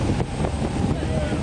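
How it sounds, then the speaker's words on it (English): Strong wind buffets the microphone on a water taxi in Fiji in a continuous low roar, with faint water and boat noise underneath. "Very windy."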